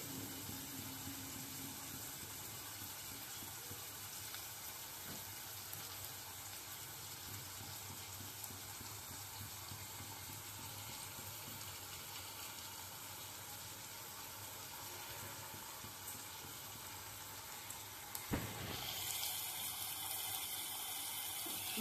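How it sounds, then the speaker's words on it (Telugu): Water pours steadily into a pan of Andhra-style pond fish masala curry, a continuous rushing hiss that runs for a long stretch, then changes abruptly near the end. "కొంచెం మగ్గాక వాటర్ పోసేస్తున్నాం."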